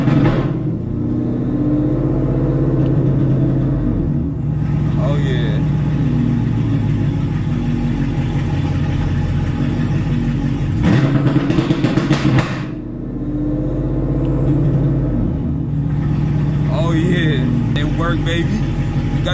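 A 2021 Chevrolet Camaro SS V8 holds a steady, loud two-step rev limiter around 2000 rpm with a brief sharper burst near the middle. A person talks over the engine throughout.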